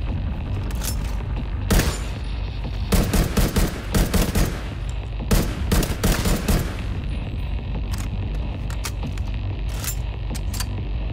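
In the video game The Division 2, bursts of automatic gunfire crack in rapid clusters over a constant noisy background, then thin out into sparser shots. No one speaks.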